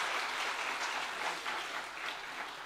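Students at a university orientation session clap together in a continuous, dense wash of applause that holds at an even level from start to finish, with little else audible.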